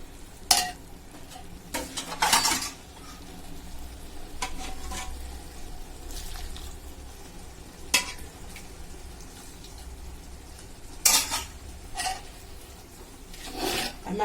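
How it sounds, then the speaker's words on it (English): Beef biryani spices with turmeric and a little added soup are stirred and fried in a pot, a low continuous sizzle broken by repeated scraping and clanking strokes of a spoon against the pot. "Now I'm going to mix it and put a little soup."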